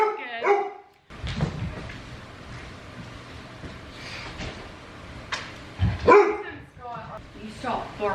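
A pet dog barks indoors at home, several sharp yaps and yips in short bursts at the start and again near the end, with a person talking throughout.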